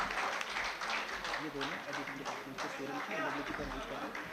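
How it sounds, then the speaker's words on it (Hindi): Steady audience applause welcoming a news presenter at a facilitation ceremony for a news team, a continuous wash of clapping from a hall crowd at moderate distance. "जोरदार तालियों के साथ स्वागत कीजिए आतिया मुजीब का।"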